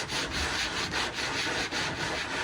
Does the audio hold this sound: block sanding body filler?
yes